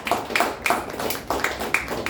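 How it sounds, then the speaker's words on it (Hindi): Audience clapping at a gathering in the Dombivli area, with several loud, irregular bursts of claps close by and no talk over them. "उसके लिए एक बार जोरदार ताली होगी"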